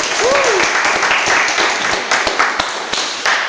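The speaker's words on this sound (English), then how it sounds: "I'd like to give everyone a round of applause to begin." Applause for debaters after a nuclear power debate, a dense, steady wash of many hands clapping in a room, loud and continuous throughout, with a brief voice-like whistle near the start.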